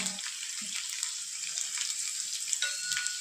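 Cumin, finely chopped garlic cloves and two chilies sizzle in hot oil for a tadka to pour over besan pithla, a steady crackling fry with faint stirring, fairly quiet and mostly free of talk.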